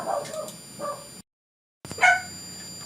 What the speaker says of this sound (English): it's harder for me to get him to stop barking at the other dog